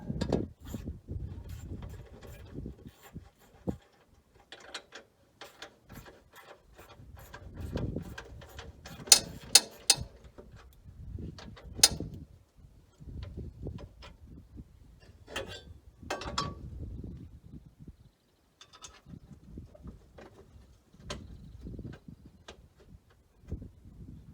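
A hand ratchet clicks in short bursts while bolts are worked on a John Deere 4320 tractor seat, with irregular ticking runs, metallic taps and pauses, fairly close and moderately quiet.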